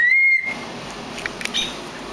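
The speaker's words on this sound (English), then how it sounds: "Whistle again." A person gives one short, loud, high whistle at the start, followed by quiet background with faint scattered noises.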